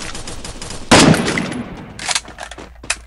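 Gunfire in the shooting game Free Fire, a loud close burst of rapid automatic shots followed by a few scattered shots that trail off.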